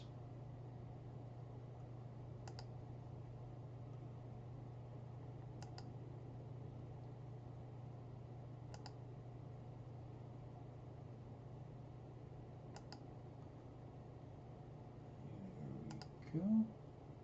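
Computer mouse clicks while working with a polygonal lasso selection tool, five faint, evenly spaced ticks over a low steady electrical hum, with a brief louder rustle near the end.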